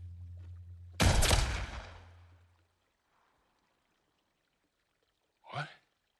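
A sudden gunshot burst in the video game Uncharted, loud and close, fading off over about a second, followed by a brief short voice-like cry.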